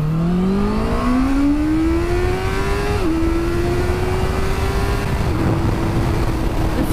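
A Honda CBR650R middleweight sport motorcycle with a 12,000 RPM redline, its engine pulling up through the revs with a rising tone, shifting and holding a high, steady howl under constant loud wind rush, close to the rider.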